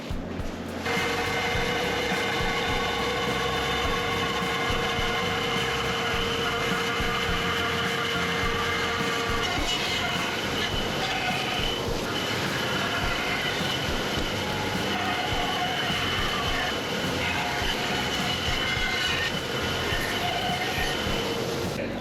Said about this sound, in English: Now, I need to get this cut out on the bandsaw.